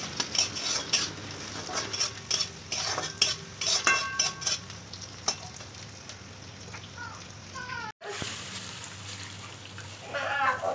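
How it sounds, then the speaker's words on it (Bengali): Spatula stirring a milk and egg mixture in a pan over a high gas flame for egg halwa, with steady scraping and clinks of metal and soft sizzling throughout, no talk. "হালকা করে বারবার খুন্তির সাহায্যে দুধটা ডিমটিকে নাড়তেই থাকবে"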